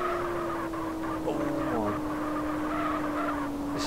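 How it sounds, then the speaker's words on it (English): Tyres skid and squeal as a manual Toyota SC300 drifts at very high speed in the racing game MTA (GTA), with a steady engine tone underneath throughout. "Very high speed drifting"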